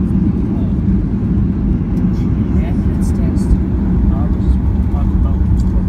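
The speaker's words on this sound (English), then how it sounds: "That was a good landing with some hard braking." Loud, steady roar of a Norwegian Boeing 737-800 landing at Stockholm Arlanda under full reverse thrust and hard braking, heard from inside the cabin as a dense continuous rumble for the whole stretch.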